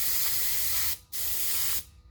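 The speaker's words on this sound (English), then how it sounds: "So the little guy is going to be a bit harder to spray" An aerosol can sprays paint onto a small resin fishing lure cast from a silicone mold: two close, steady hissing bursts separated by a brief pause.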